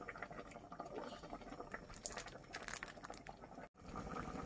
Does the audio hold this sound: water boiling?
yes